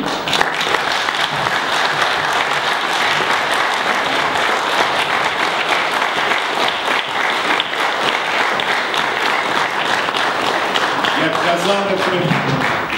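A large audience at a regional Zakarpattia government gathering gives prolonged, stormy applause, a dense, loud and continuous roar of clapping that holds steady throughout, with a voice faintly heard near the end.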